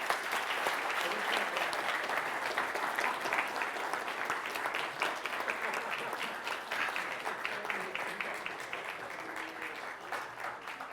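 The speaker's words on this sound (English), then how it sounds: "why don't we give him a round of applause?" A live audience at a debate event gives a sustained round of applause, dense and even clapping that holds steady for several seconds before tapering slightly.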